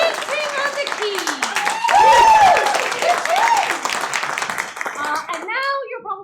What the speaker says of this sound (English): A big round of applause for the Grindstone Theatre for hosting us